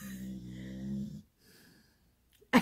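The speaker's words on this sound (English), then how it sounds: "She is snoring so loud." A dog snores loudly nearby, one long rumbling inhale followed by a quieter wheezy breath and a sudden snort-like burst at the end.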